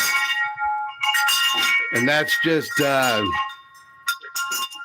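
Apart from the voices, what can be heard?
galvanized steel pipe wind chimes ringing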